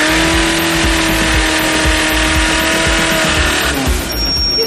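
Car accelerating hard with the clutch slipping, a loud sustained engine roar with a steady high whine above the rumble, holding for several seconds before easing off near the end.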